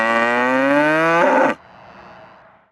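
A dairy cow gives one loud, close moo lasting about a second and a half, its pitch rising, followed by a fainter breathy tail and then quiet.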